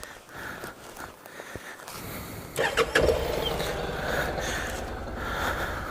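A 2014 Honda NC700XD DCT ABS motorcycle with its stock OEM muffler starts up: a short cranking burst, then the engine catches and settles into a steady, quiet idle close by.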